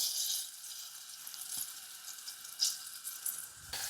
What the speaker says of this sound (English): So I'm just sauteing these.